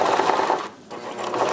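Sewing machine back stitching a seam on a black and white striped girl's dress: fast continuous whirring stitch noise, close and loud, briefly slowing to a dip as the direction reverses, then resuming.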